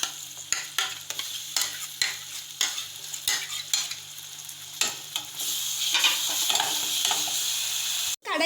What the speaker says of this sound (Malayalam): വെച്ചിരിക്കുന്ന കടലയും തക്കാളിയും കൂടി ഇന്ന് ഇട്ട് കൊടുക്കാം